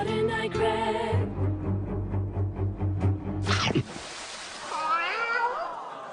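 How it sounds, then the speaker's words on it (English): A cat meows in a late-night TV studio setting. A drawn-out, wavering yowl follows some earlier tonal sounds, fairly clear and close. "The cat that came up at the end was the same cat."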